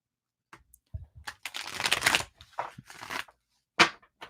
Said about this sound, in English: Going to shuffle up for Durwood.